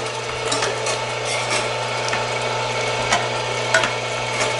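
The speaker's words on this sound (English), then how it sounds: "So this grinder works pretty good. It's grinds up pretty good compared to a hand crank." An electric meat grinder grinds Italian sausage with a steady, close motor hum and fine mechanical rattling and clicking throughout, with no talking.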